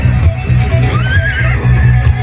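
A horse whinnies loudly and close by, a rising then wavering neigh, over a steady low rhythmic thudding.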